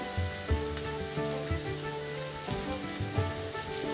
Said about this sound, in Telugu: ఇలా ఆకుకూర కూడా చక్కగా ఫ్రై అయిపోయింది.